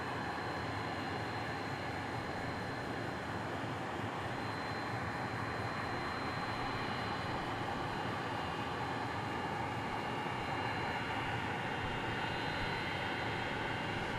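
An airliner landing at DFW International Airport, heard as a steady, broad, distant engine roar that holds evenly throughout with no breaks and no talking.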